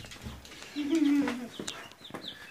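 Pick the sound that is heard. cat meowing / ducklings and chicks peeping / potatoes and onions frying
ducklings and chicks peeping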